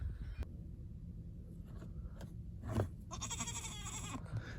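A farm billy goat being considered as a breeding sire gives a couple of short, mid-distance bleats, with rustling and shuffling over steady background noise.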